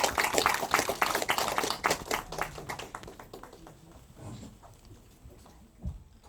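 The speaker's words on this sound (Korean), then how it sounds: "큰 박수 부탁드립니다" Applause from an audience greeting a speaker at a Korean speech and leadership lecture event, dense clapping that thins out and fades over several seconds.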